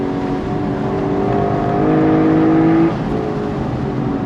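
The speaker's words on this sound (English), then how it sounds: "You got the top down so you get to enjoy that V8 rumble" A 2024 Lexus LC500 Bespoke Edition V8 with the top down gives a steady, close engine rumble while driving, swelling slightly midway, with no talking.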